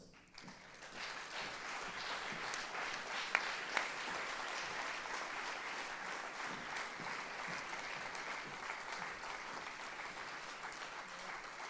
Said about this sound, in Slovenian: Ta aplavz je bil seveda namenjen njej